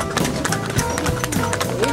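Horse hooves clip-clop in a busy outdoor setting, a steady run of close taps mixed with people talking over the top and general background bustle.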